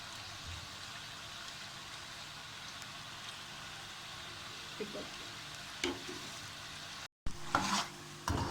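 Chicken masala with capsicum is sautéed and stirred in a pan, a faint low sizzle with a few light scrapes, then a brief gap and a couple of louder stirring scrapes.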